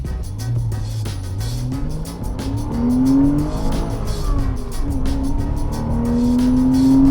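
A Porsche sports car engine screams around Goodwood Motor Circuit, revving up through the gears with rising and falling pitch, close and loud, with brief tire noise.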